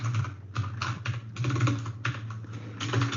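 Steady bursts of computer keyboard typing while code is entered, close and fairly loud, with a constant low hum running underneath and no talking.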